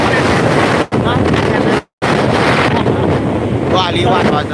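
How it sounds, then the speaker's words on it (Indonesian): Strong wind buffeting the microphone on a motorbike ride home, a loud, continuous roar with two brief dropouts, while someone talks over it. "Wow, kencang sekali anginnya, kencang sekali."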